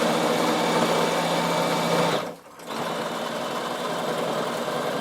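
A sewing machine stitches an upcycled backpack, running in a loud, steady mechanical whir that stops briefly midway and then starts again.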